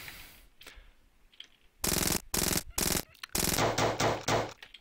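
Machine gun fire in a zombie defense video game: several loud, sustained bursts of rapid automatic shots separated by brief pauses, after quieter faint sounds at the start.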